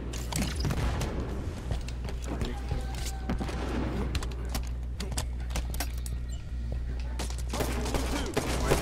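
Gunfire and explosive bursts from a Halo 5 doubles match, a grenade thrown amid a steady wash of shots and clatter that runs dense and loud throughout, with a voice talking over the action.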